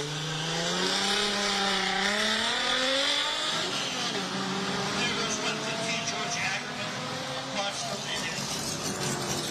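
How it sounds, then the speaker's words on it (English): A 1996 Volkswagen Golf launches from a hillclimb start line, its engine revving hard and climbing in pitch, shifting and pulling away, loud and continuous with crowd noise and talk around it. "Just heard George Ackerman rip out of the start line in a 1996 Volkswagen Golf"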